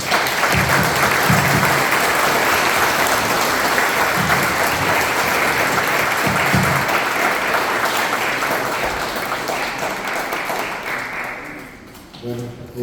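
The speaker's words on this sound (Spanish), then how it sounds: "Un aplauso, por favor." Audience at a question-and-answer session applauding the speakers, loud sustained clapping from many hands for about ten seconds before tapering off toward the end.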